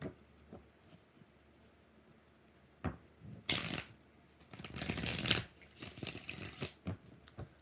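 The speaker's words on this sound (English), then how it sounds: "Three more shuffles." Tarot deck being shuffled by hand at a reading, bursts of riffling and sliding card noise in several separate rounds, close and fairly loud against a quiet room, with scattered small taps between shuffles.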